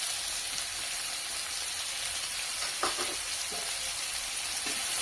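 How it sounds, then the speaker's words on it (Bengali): Chopped onions frying in oil in a wok give off a dense, constant sizzle at close range, with a few faint stirring clicks now and then and no voices. "তেলের মধ্যে দিয়ে দেব 2টো মিডিয়াম সাইজের পেঁয়াজ কুচি করে রেখেছি"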